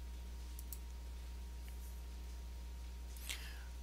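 Computer mouse clicking, a few faint sharp clicks spread across a quiet background with a steady low electrical hum, no voices.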